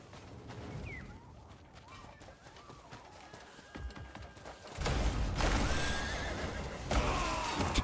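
A horse in the Crimson Desert video game whinnies with a short rising cry and several wavering calls after its rider is knocked off, followed by louder running and clattering hoofbeats with game noise.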